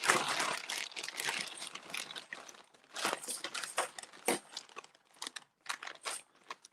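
A bag of coins, old threepenny bits, is torn open by hand, giving a close run of crinkling, crunching rips in short bursts with brief pauses between them.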